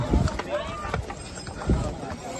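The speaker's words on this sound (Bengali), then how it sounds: "আর এখানে ঘোড়া টোড়া সব ভর্তি আছে।" Horses' hooves clop along the Kedarnath pilgrimage trail in a few quick, uneven steps, heard up close amid crowd voices and general bustle.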